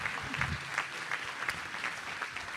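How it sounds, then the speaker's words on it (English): Applause rises for raffle winners at a charity gala, a faint, steady patter of many hands clapping from a distant crowd, continuing evenly throughout. "big round of applause for our raffle winners"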